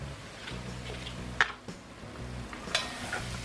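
Spices and brown sugar being stirred into a vegetable chili, soft sizzling in the pot with a few clinks and scrapes of the spoon against the pan.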